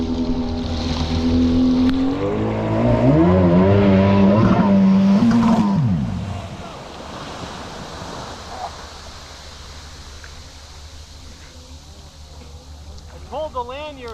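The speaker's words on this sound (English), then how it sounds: "That sounds like the Octane coming in." An Octane jet ski approaching during lap runs on the water, its engine whine rising and falling loudly before fading into a lower, more distant drone as people talk nearby.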